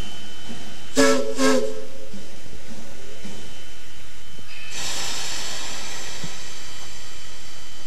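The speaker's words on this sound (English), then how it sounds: "the train of empties departs for Eatonville." A locomotive hauling a train of empty cars departs, sounding a couple of short horn blasts before a steady, loud rumbling hiss of the moving train takes over.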